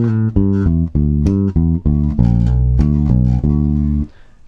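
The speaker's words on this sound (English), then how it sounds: "So the whole bar, once you stick it together, is going to sound like this." Electric bass guitar plays a full bar of a blues lick, a run of distinct sustained notes, close and prominent, ending on a held note that fades out.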